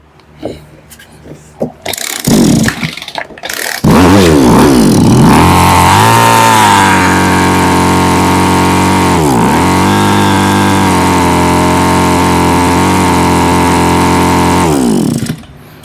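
Small engine of a brush cutter or sprayer that revs but fails to accelerate properly: a few sputtering starts, then a loud, close, sustained drone that dips and bogs briefly twice before cutting off at the end.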